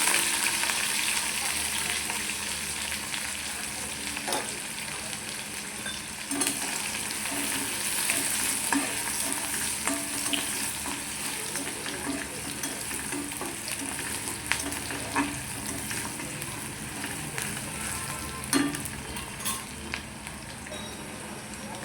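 Onion fries in a pan with garlic and curry leaves for matki dal amti. A continuous close sizzle carries occasional stirring scrapes and pops, and no one speaks.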